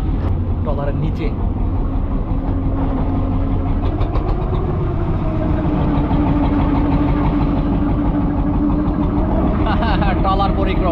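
A trawler boat's engine runs at a floating market, a loud, steady low rumble throughout, with people talking over it.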